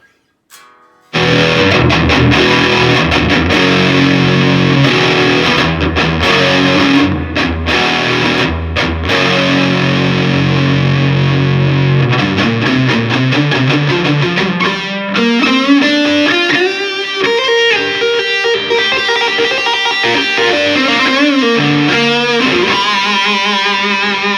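An electric guitar plays heavily distorted chords and then a sliding, sustained lead through a Boss Katana 50 amplifier with its original speaker, loud and continuous for over twenty seconds with no talking.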